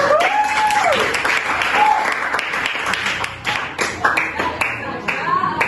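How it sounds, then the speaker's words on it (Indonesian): A class in an economics lesson gives a round of applause, crisp clapping that starts loud and thins into scattered claps toward the end, with a voice heard at the start. "Nah, oke, beri tepuk tangan."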